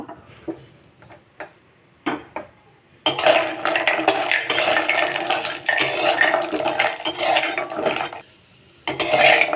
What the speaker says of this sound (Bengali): এবার আমি বড়িগুলো প্রথমে ভেজে নেব